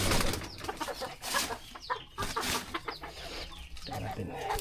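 A Chabo bantam hen in a backyard farm coop gives soft, scattered clucks and chirps close by. Bits of quiet handling noise and a voice sit faintly underneath.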